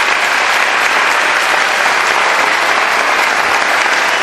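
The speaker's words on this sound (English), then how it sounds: "Let's keep clapping." An audience at a school award ceremony in Tumkur claps steadily and loudly, a dense, continuous wash of applause from a large crowd holding the same level throughout.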